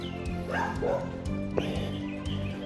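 A puppy barks and yips several times in short bursts over steady outdoor background noise on an early-morning residential street walk in Cherry Gardens, Jamaica, fairly close.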